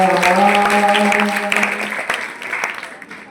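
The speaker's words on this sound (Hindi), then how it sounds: "बहुत अच्छा हुआ आपने ताली बजाई" Crowd clapping at a Bharat Ki Santan dance performance, brief scattered applause that follows a held singing voice and fades within a few seconds.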